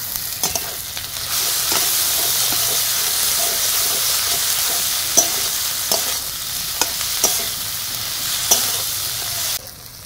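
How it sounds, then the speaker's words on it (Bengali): Ginger garlic paste is sautéed with tomato in a pan, a loud continuous frying hiss broken by sharp spoon taps and scrapes against the pan as it is stirred. "বাটাটা দিয়ে আবারও কিছুক্ষণ আমি কষিয়ে নেব, যতক্ষণ না পর্যন্ত আদা রসুনের কাঁচা গন্ধটা যায়।"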